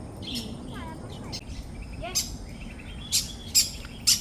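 A pet parrot gives bright, squeaky calls and chirps in short bursts over a steady rumbling background, with several sharper calls near the end.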